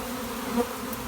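A steady, dense buzzing of a honeybee swarm waiting to move to a new home, a continuous hum with no other sounds.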